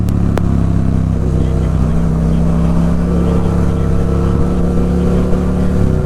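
Honda CBR650R and Yamaha MT-07 motorcycle engines running loud and close, a steady low drone that holds throughout, with a little wind and road noise on top.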